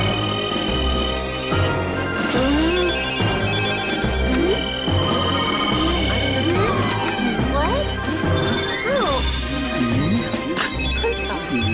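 A cell phone's ringtone goes off in a movie theater in an animated episode, a repeating electronic melody that plays throughout while voices and other sound effects overlap it.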